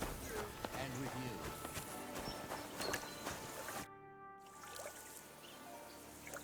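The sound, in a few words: horses clip-clopping in video game Kingdom Come Deliverance 2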